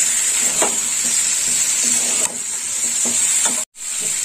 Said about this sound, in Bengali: লবণটা দিয়ে একটু কষে নেব।